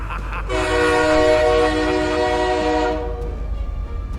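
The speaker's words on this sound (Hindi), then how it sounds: "हॉर्न आया" A train horn sounds in one long, loud, sustained blast for about two and a half seconds, then cuts off, leaving a low rumble of rail movement underneath.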